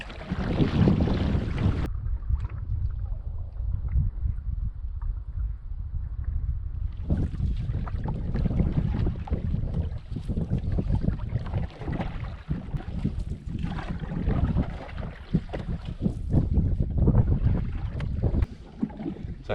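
Solo canoe paddling across the north end of Whitewater Lake in Wabakimi's boreal wilderness, a steady rush of wind and water noise running throughout with brief calmer stretches.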